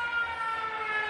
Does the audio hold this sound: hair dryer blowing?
no